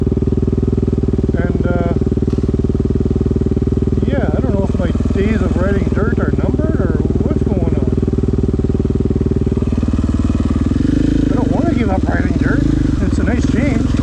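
KTM 500 dirt bike running on single track, its engine a steady continuous drone throughout with a voice talking over it in places.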